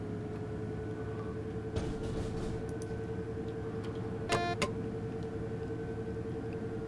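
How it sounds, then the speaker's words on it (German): Over a constant low rumble in a BR 628 train cab, two short whistle toots from a train at a whistle board in Train Sim World 3 sound close together, brief and moderately loud. "Das war der KI-Zug, der gepfiffen hat an der Pfeiftafel."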